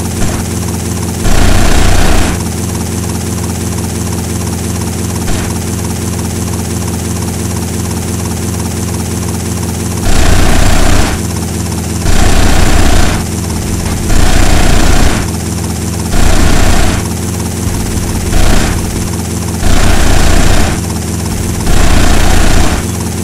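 Helicopter engine and rotor in the GTA Vice City Stories video game: a loud, steady mechanical drone that runs the whole time, broken by repeated short, louder bursts.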